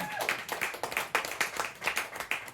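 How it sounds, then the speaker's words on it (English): Scattered claps from a small open mic crowd in the Blasket Bar in Tralee greet a performer, a thin irregular patter of individual hands, fairly close, with a voice briefly audible. "big round of applause. Big welcome to Harry Boyd."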